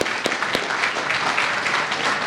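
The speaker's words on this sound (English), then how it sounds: "One more round of applause for him." A lecture audience applauds, a brief steady patter of many hands clapping with a couple of sharper claps near the start.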